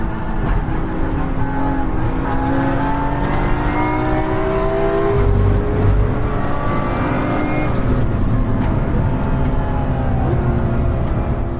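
GT4 race car engine in a European Championship race, loud and steady throughout, with rising and falling revs as it accelerates through corners and gear changes.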